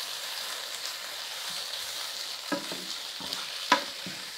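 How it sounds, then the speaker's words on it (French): Gyros meat, mushrooms and peppers fry quietly in a pan, a soft steady sizzle with a few sharper clicks and taps of stirring near the end. "J'ai plus qu'à attendre que le gyros, les champignons et les poivrons soient cuits."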